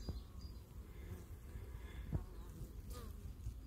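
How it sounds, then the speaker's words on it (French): Honey bees buzz around a small nucleus hive during an apiary inspection, a faint steady drone with individual bees passing close now and then, fairly quiet throughout. "On voit une abeille là qui a du pollen"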